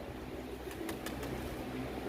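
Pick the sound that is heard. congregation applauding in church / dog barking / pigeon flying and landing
pigeon flying and landing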